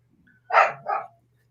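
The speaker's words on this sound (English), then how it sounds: "He's at the bottom of the stairs barking." A dog at the bottom of a staircase gives two quick, close barks, the first louder than the second, against an otherwise quiet indoor room with a faint steady hum.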